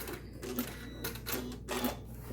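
Sewing machine stitching pieces of a scrap string quilt block, heard as three short bursts of rapid mechanical stitching separated by brief pauses, close and fairly quiet, with no talking.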